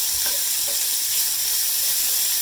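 Onions and peppers sizzling in a pan, a steady hissing fry held at an even level for a few seconds, close and uninterrupted, with no talk.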